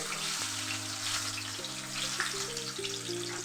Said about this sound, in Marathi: आता हा आपला कांदा आपण चांगला लाल करूया